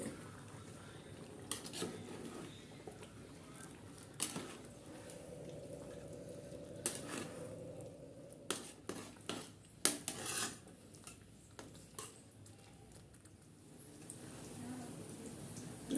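Biryani with ghee being stirred in a metal pot, with a spoon repeatedly scraping and clanking against the sides in irregular knocks over a low background hiss, with no talk.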